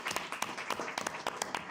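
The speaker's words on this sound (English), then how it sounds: "I want to give a round of applause to the clerk's office and Kathy and Ann" A small group gives a light round of applause at a city leisure services advisory board meeting, with sparse, scattered claps that stay fairly quiet and thin throughout.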